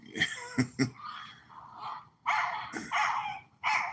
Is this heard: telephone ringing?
no